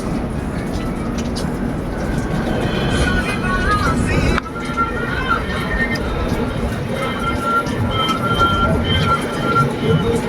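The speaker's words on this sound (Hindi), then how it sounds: "ट्रेन चालला गाइस" A moving train rumbles steadily with broadband rail noise, faint squealing tones and a brief jolt partway through, heard from inside the carriage while people talk over it.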